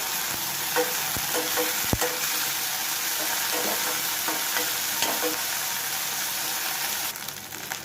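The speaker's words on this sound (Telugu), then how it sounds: "అల్లం వేగిపోయింది." Onions and ginger garlic paste fry in a pan with a steady, close sizzle, punctuated by a few soft stirring scrapes and taps.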